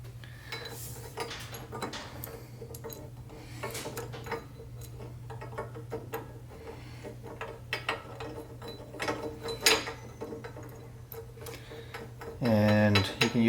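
A socket ratchet tightens a crossbar clamp on a Toyota 4Runner roof rack. Quick, repeated clicking bursts come close up at a moderate level, with a low hum underneath and a louder clatter near the end.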